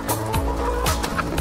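Chickens on a farm cluck while being fed treats, several short clucks close by over a steady background, with a brief low crow-like call among them.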